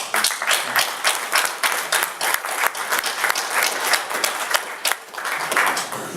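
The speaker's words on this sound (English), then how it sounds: "You all deserve a round of applause for your efforts as delegates and alternates." Delegates and alternates at a Senate District 54 endorsing convention give a loud, steady round of applause, many hands clapping together throughout with no talking over it.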